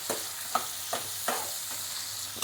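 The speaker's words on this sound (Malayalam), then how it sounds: "സോ അതുകൊണ്ട് നമുക്ക് ഇത് വെച്ചിട്ട് തന്നെ ഇളക്കാം." Chicken chukka is stirred in a non-stick pan over a steady sizzle, with soft rhythmic scrapes of the spoon roughly every half second.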